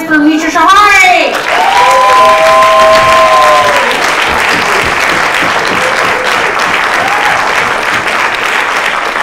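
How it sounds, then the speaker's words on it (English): Loud audience applause for a comedian at a late-show comedy competition fills the room, steady and dense throughout, with a brief voice over the clapping at the start. "So clap your hands for Mitra Shahari!"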